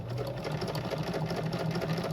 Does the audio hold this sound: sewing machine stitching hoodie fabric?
yes